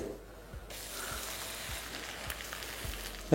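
A spice paste with chilli and turmeric goes into a hot pan and sizzles with a steady, moderate hiss, with a few soft knocks underneath and a brief clatter at the end.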